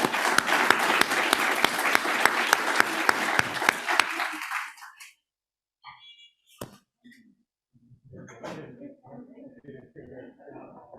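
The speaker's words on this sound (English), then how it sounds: "So please give them a round of applause." An audience applauds with dense, steady clapping for several seconds, then it fades out, leaving faint scattered voices talking.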